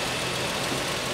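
A car engine runs steadily at idle, a continuous close mechanical rumble throughout with no talk over it.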